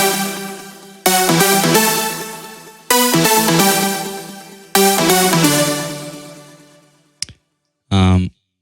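Dry synth lead with its reverb switched off, playing three sharp-attack sustained phrases that decay between hits, then a brief blip and a short final burst, loud and alone.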